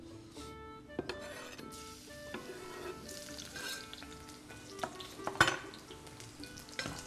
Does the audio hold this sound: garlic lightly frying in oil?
yes